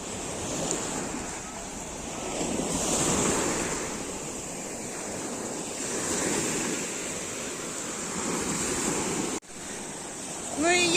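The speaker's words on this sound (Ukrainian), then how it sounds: "Мені кажеться, що хвилі якісь трошки більші стали." Steady roar of Tyrrhenian Sea surf at Torvaianica beach, Italy, with waves washing in and breaking, broad rushing noise throughout, with some wind buffeting and a faint voice near the end.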